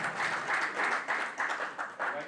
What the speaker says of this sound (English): Clap louder, clap louder.